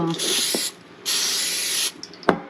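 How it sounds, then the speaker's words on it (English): Two close hissing bursts of cooking spray from an aerosol can, the second longer, followed by a few small clicks. "I'll spray my hand with some Pam here."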